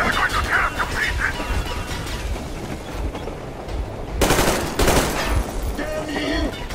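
Automatic gunfire in the post-apocalyptic shooter Metro Exodus, with rapid bursts of shots and a loud blast near the middle, set against continuous game noise.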